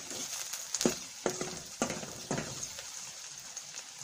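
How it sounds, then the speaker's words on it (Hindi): Long green chillies fry in a pan for tomato salan, a low sizzle under four or five distinct scraping stirs spaced about half a second apart, near and without speech. "अब इनको भी इन्हीं के साथ थोड़ा फ्राई कर लेंगे।"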